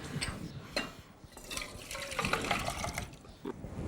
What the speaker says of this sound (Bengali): এবার তুমি আস্তে করে ঢেলে দাও।